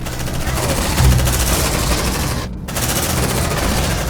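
Sustained automatic gunfire in the Aliens: Dark Descent video game, a loud, rapid, continuous rattle of shots that cuts out briefly near the end and then resumes.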